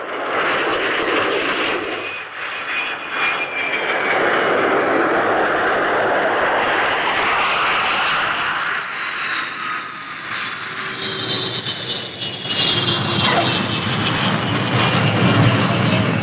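Jet engines of US F-100 fighter planes returning to Vadati Air Base after strikes, a loud, steady roar with a sweeping whine that holds throughout and swells again near the end.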